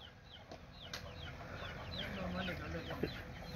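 Chickens clucking inside a cage, with repeated short clucks and calls over a steady outdoor background, some wing flutters and voices faintly underneath.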